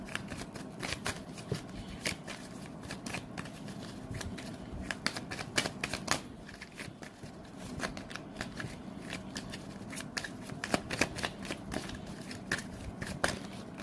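Tarot cards are shuffled by hand in a continuous run of crisp riffling flutters and snaps, close and fairly quiet, repeating for the whole stretch without any voice.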